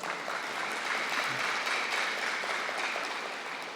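Applause fills a meeting hall at a spiritual gathering, a steady wash of many hands clapping at a distance, fairly faint and even for about four seconds.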